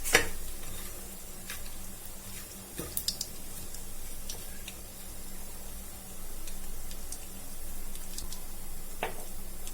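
Hot oil spluttering in a pan before onions go in for chicken pulao, a faint steady sizzle with scattered small pops and crackles, no voices.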